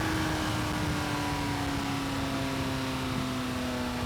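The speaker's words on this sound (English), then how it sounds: "as we go down through the gears, you can hear that engine note change" Steady, droning engine of a McLaren 600LT Spider downshifting, with a sustained tone that shifts slightly, running continuously and fairly loud throughout, with no talking.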